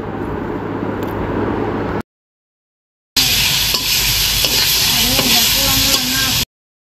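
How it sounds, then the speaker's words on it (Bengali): Fish frying with spices in a hot pan gives a steady, loud sizzle that runs through, broken by a short silent gap before the hiss picks up again with faint stirring scrapes. "মাছগুলোকে অন্যভাবে ভাজিয়ে নিই, মশলার সাথে একেবারেই ভেজে নেব।"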